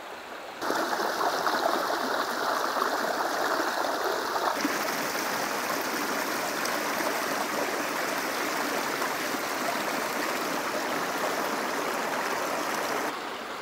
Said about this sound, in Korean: 가을에 이렇게 흘러가는 계곡 물소리를 들으면서